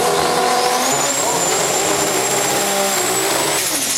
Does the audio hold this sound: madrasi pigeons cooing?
no